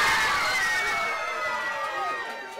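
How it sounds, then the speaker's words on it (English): Crowd cheering and applauding as the UK Christmas number one for 2015 is announced, a broad wash of cheers and clapping heard fairly faint and steady throughout. "It made my Christmas hearing that cheer."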